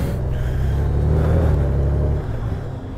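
A 2020 Honda Goldwing motorcycle being ridden, heard through a helmet-mounted camera as a loud low engine rumble with wind noise, the drone easing off briefly toward the end.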